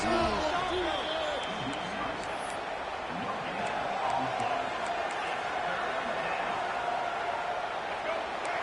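A dense stadium crowd roars steadily throughout at a college football video game (NCAA 26), with a commentator talking over the din.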